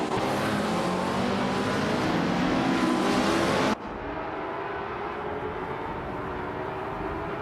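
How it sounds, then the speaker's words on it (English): A 1965 Cooper T77 race car roars at Bremgarten in a racing video game. The engine drone is loud and sustained, then its tone shifts abruptly midway and continues at a slightly lower level. "the race kicks off at Bremgarten with Bot the critical leg on pole, zooming in a shiny 1965 Cooper T77"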